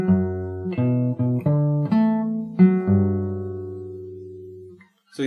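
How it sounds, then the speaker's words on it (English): Acoustic guitar plays the next phrase of a song from Cyberpunk 2077, a string of clear plucked notes and chords that ring out and slowly fade before a fresh pluck at the very end, heard alone with no talking. "And then the next part sounds like this."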